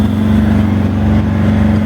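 A yacht's engine drones loud and steady at close range under a hand throttle, a continuous motor rumble with no talk over it.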